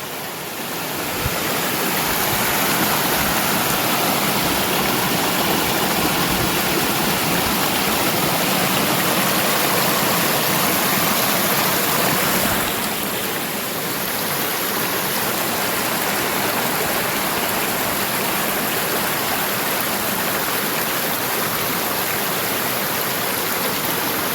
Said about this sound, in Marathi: आणि या बंधाऱ्यामध्ये मी आता उभा आहे पाण्याला फोर्स बघा किती आहे